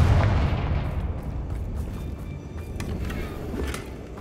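A Confringo fire spell bursts in the video game Hogwarts Legacy, opening with a heavy booming blast that rolls into a lingering rumble and crackle, fading over a few seconds, with no voices.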